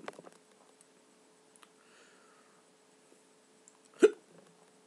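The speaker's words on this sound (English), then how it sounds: "Hiccup." A single sharp hiccup bursts out near the end after a hot chili pepper is eaten, loud and sudden, following a few faint mouth clicks and quiet breathing in an otherwise still room.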